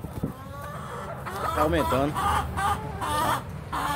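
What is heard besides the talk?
laying hens clucking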